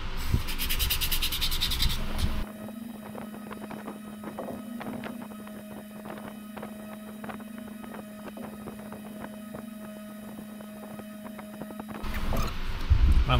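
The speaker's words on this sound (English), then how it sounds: "Only sanding down to 240 grit." Hand sanding of a wooden creeper-style fishing lure at 240 grit, a steady close rubbing scrape running continuously for about ten seconds alongside a constant generator-like hum, with louder handling noise at the start and end.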